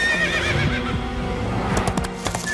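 A free, untamed horse trapped in a pit whinnies loudly and close by in a long, wavering neigh, with a few soft hoof thuds underneath and no voices.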